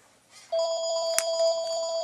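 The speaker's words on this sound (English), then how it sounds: "that'll be my phone ringing, house phone." A house phone rings with a steady electronic trill in a home workshop during work on a 1/8 scale Atomik-RC Metal Mulisha short course truck, clear and close, one sustained ring burst with no talk.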